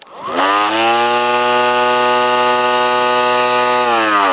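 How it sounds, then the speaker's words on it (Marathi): A motorised chickpea top-nipping machine starts up with a brief rising whine, then holds a loud, steady, chainsaw-like motor drone with strong harmonics for several seconds, with no voices. "या बटनावर ही मशीन चालू होते आणि चालू केल्यानंतर हिचा साऊंड हे तुम्हाला याची ताकद जाणून देईल"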